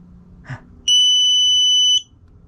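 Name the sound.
battery management system beeping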